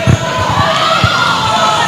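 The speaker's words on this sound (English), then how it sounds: "the crowd applauds this one" At an international netball match between Grenada and St. Vincent, a loud crowd cheers and applauds a goal, with shouts rising over the sustained roar.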